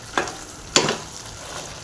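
A spoon scrapes and stirs cooked foxtail millet and moong dal in a pan, two distinct scraping strokes with a faint sizzle between them.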